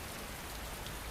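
Rain falls steadily as a dense, even hiss of drops on a surface, close and constant with no breaks and no voices.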